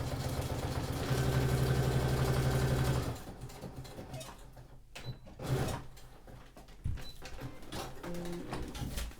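Sewing machine stitching long stitches down the middle of paper booklets for a junk journal, a steady loud mechanical whir for about three seconds, then stopping, followed by quieter handling clatter and paper movement.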